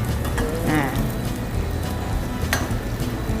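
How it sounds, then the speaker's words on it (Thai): Chicken pieces stir-frying in a pot for Thai massaman curry, giving a steady close sizzle with faint scraping of the spatula throughout, with no talk over it. "ใส่ ตัวไก่นะคะลงไปนะคะ เดี๋ยวเราผัดให้สุกนิดนึงนะคะ"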